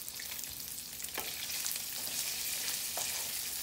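Round slices of hot dog fry in a pan with a continuous soft crackling sizzle, broken by a few faint clicks of stirring.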